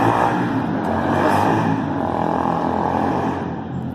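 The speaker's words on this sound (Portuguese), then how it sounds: "passou uma moto muito barulhenta aqui na rua" Loud motorcycle passing on a street, a steady engine roar close by that gradually fades toward the end.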